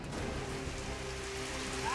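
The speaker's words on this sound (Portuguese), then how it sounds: "E a chuva muito forte" Heavy rain pours down during a strong storm in Manaus, making a continuous, loud, close wash of drops hitting surfaces that never lets up.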